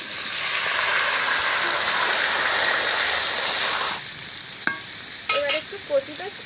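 Taro fries in oil with dried chillies, cumin and bay leaves, a loud dense sizzle for about four seconds that then drops away, leaving a few clinks and stirring scrapes from the pan.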